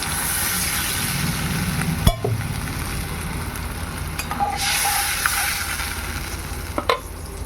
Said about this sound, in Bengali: তো এবার দিয়ে দিচ্ছি পরিমাণ মতো জল